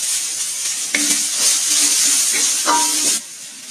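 Onions and crushed black pepper sizzle and fry in a pan for lechon paksiw, a steady close hiss with a few stirring scrapes partway through, no talking.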